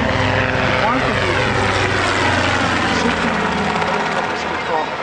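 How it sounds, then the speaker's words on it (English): A Robinson R22 light civil helicopter flying at an airshow, a loud, steady, close engine and rotor roar that fills the whole stretch without letting up. "The R22 has also now become one of the best-selling civil helicopters in the market."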